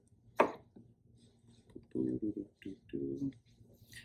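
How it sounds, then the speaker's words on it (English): Knife slicing tomatoes into strips for pico de gallo on a cutting board, a few soft close chops and clicks in short clusters, quiet. "just cutting it into strips"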